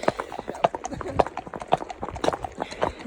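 Hooves of a horse out hacking clip-clop in a steady, even walking rhythm, close and distinct throughout, with a voice talking over them.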